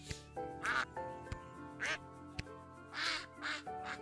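A duck quacks repeatedly in the video game Lil' Guardsman, several loud, nasal quacks in uneven bursts, punctuated by sharp clicks and soft game music underneath.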